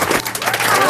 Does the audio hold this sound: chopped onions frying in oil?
no